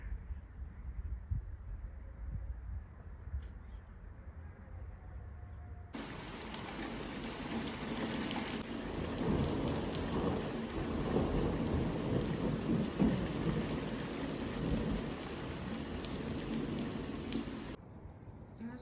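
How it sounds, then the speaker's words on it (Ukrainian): Steady rain pours down with low rumbles of thunder rolling underneath, starting after a few seconds of quieter ambience and stopping abruptly near the end. "скоро буде дощ"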